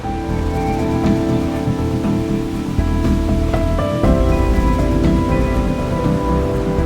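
Many small waterfall cascades pour down a steep hillside in the Chilliwack valley, making a loud, steady, close rushing roar that holds without a break.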